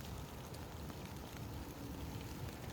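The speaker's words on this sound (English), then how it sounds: "Fishing in the rain," Steady rain falls during a largemouth bass fishing outing, a dense, even hiss of drops on surfaces that stays constant and close throughout, with no talking.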